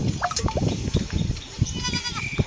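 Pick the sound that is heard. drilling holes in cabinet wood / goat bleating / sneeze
goat bleating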